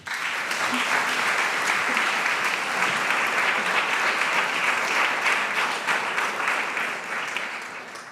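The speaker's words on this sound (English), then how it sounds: "A warm applause" Warm audience applause in a lecture hall introducing a sleep and sexual arousal researcher from Groningen, dense and even clapping that holds steady before tapering slightly at the end.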